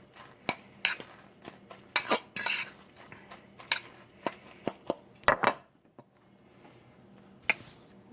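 Spaghetti squash fritter batter being mixed in a bowl, with a utensil clinking and scraping against the dish in irregular, fairly close taps and short scrapes, then a quieter pause near the end.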